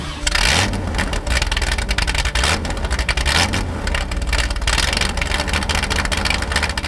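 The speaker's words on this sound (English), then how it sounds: "you flip the ignition key on, and then you flip the starter switch. This sound makes your adrenaline rush." A 1966 Ford GT40 Mark II continuation car's engine runs loud and close, a rough, throbbing roar with a few rising revs over its steady idle.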